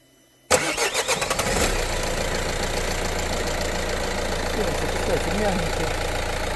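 A Renault Scenic diesel engine cranks with a quick rhythmic churn and catches, then settles into a steady, slightly knocking idle. A voice talks quietly under the engine noise.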